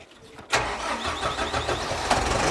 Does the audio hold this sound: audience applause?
no